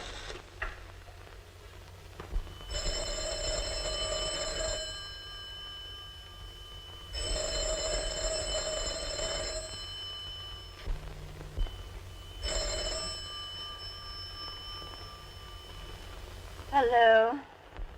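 A telephone rings at night in three long, loud bell bursts spaced a few seconds apart, with faint room noise between them and a brief rattling pickup sound at the end.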